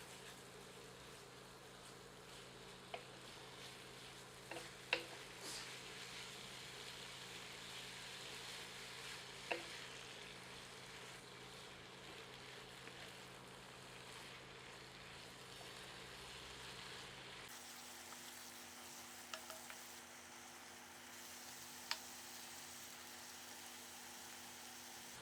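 Boiled banana flower being stirred in a frying pan, a steady sizzle with faint scraping and occasional clinks of the ladle, continuous and close, with a low hum shifting partway through.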